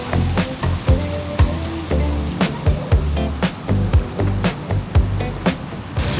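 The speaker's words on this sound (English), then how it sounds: "this may be flushed out by the sound of all of the water" Water rushes steadily at a hotel sky pool, a loud continuous splashing wash with repeated sharp knocks and splashes breaking through it.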